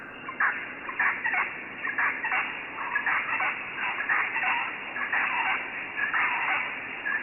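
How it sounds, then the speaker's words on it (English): Dense chorus of bird calls, overlapping warbling and chattering notes in a continuous busy stream, loud and close with no pauses. "Or these birds."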